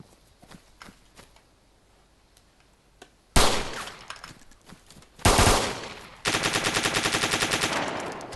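Loud bursts of automatic gunfire in the video game DayZ erupt after a few seconds of quiet footsteps, with several sharp volleys and a final rapid rattling stream close by.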